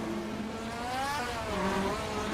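A 1978 Porsche race car in a racing video game, a steady engine drone that rises and falls in pitch over two seconds, loud and close, with no talking.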